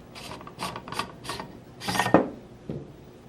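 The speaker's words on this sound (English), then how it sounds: "We're first going to start off by removing our barrel" Unscrewing the barrel from a Tippmann Project Salvo paintball marker gives a series of short, close raspy turns with thread-on-thread rubbing, ending in a couple of light clicks.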